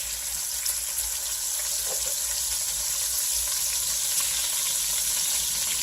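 Eggs frying in a pan at breakfast, a steady broadband sizzle and crackle running unbroken throughout, close and fairly loud with no talking.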